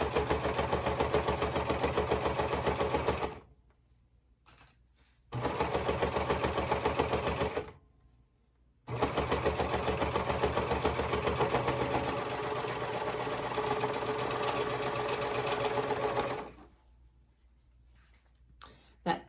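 Serger sewing machine stitching a pillowcase seam, a loud, steady motor whir in several long runs broken by short pauses, near and alone with no talk.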